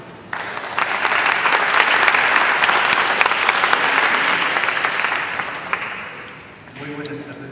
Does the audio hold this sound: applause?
yes